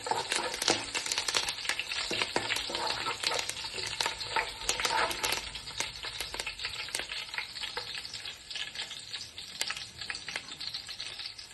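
Curry leaves and crushed spices frying in hot oil for a tempering for bottle gourd and toor dal pulusu, with a steady, dense sizzle and crackle and scattered sharp pops, close and continuous throughout.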